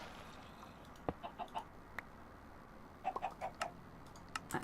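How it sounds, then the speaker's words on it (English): Glowstone chickens in the game Minecraft Sky Factory 3 give short, faint clucks in two small bursts, one near the start and one later, over a quiet, steady background. "I'm just going to very quickly just take my glowstone chickens out"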